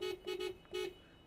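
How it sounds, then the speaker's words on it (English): A 2024 Toyota RAV4 LE sounds its horn in three quick honks, the last slightly longer, loud and close with no other sound. "We'll do the horn here."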